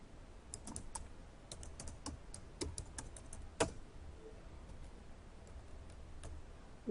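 A computer keyboard is tapped in a quick irregular run of soft, close key clicks while a password is typed. A louder click stands out near the middle, and then the keys fall quiet.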